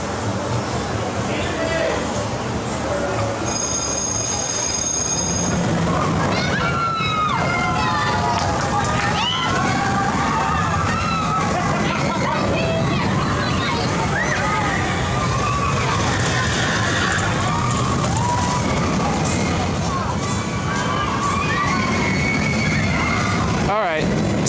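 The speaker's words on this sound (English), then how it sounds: "Tennessee Tornado, probably the best aero looper, easily the smoothest aero looper." Riding the Tennessee Tornado, a smooth aero-looping roller coaster at Dollywood: steady loud wind roar and rattling track rumble with riders shouting and screaming throughout.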